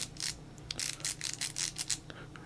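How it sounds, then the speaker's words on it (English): A Facom socket wrench ratcheting, giving a series of close, light clicking bursts in an uneven rhythm, fairly quiet and with no voices. "Now it's going to the other direction. So it's ratcheting."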